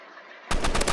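Gunfire in the Roblox game Rivals: faint game ambience, then a sudden loud burst of rapid automatic shots that continues to the end of the short clip.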